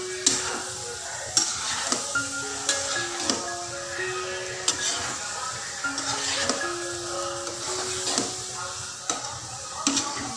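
Soya bean mixture seasoned with chili flakes, salt and spices is stirred in a pan, a steady sizzle with repeated utensil scrapes and clicks against the metal, close and continuous, no talking.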